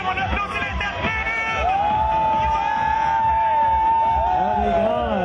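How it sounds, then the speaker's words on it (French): A Christmas parade crowd cheers and whoops along the route. The noise is loud and continuous, with rising and falling shouts and yells over a babble of voices. "on applaudit l'Interclub"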